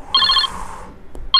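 A telephone ringtone chirps in two short electronic bursts, loud and close, separated by a pause of silence.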